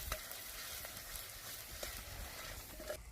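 Masala paste for a village-style mutton curry frying in a pan with very little oil, a steady, faint sizzle with a few soft stirring scrapes and no voices.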